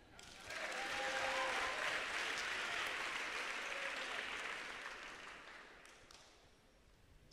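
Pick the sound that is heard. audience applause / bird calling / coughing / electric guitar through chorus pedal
audience applause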